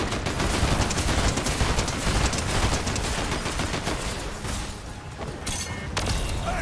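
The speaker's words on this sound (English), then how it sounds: "We're shooting them, it's tight!" Dense, continuous gunfire from a Fortnite squad firefight: overlapping rapid shots and bursts that run almost unbroken for several seconds, loud and close, with a brief lull near the end before the firing picks up again.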